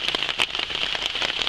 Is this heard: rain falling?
yes